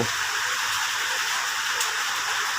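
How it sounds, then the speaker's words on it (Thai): Rain falls steadily around a small hut set against a hill in Thailand, an even hiss of drops close by, continuous and moderately loud, with no voices. "ตกอีกแล้วครับ บรรยากาศดีๆ แบบนี้ฝน ฟ้า ช่วงนี้ตกบ่อยครับ"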